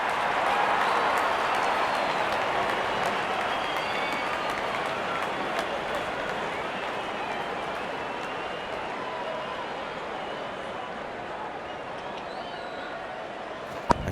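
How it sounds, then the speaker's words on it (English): Cricket crowd applauding a batsman's fifty, a broad, distant stadium roar of clapping and cheering that holds steady and slowly fades. "Wonderful 50 and the crowd applauds"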